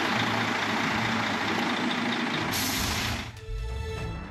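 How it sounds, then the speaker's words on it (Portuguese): A truck stopped by road inspectors idles with a loud rumbling engine, then a hiss like an air brake releasing, followed by quieter settling engine noise, close by, with no voices. "a fiscalização agora para um caminhão"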